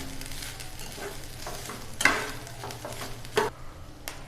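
Grated coconut stirs with salt in a pan, a soft continuous sizzle broken by two louder scraping strokes of a spatula near the middle and a lighter scrape at the end.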